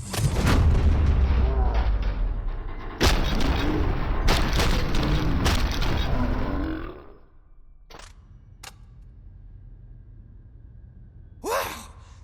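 Gunfire in the video game Robocop Rogue City, heavy booming shots and rattling bursts over a dense roar for about seven seconds, then quieter scattered sharp cracks.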